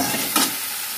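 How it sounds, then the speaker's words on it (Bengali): Ginger frying in hot oil, a loud, dense, close hiss of sizzling with one brief sharper crackle near the start. "তাই জন্য বর্ষাকালে আদাটাকে তেলের ওপর দিয়ে দিয়েছি"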